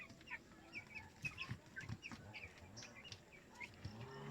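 Broiler chickens on a farm, a flock clucking and chirping in scattered overlapping bursts throughout, moderately close but fairly quiet, with no speech.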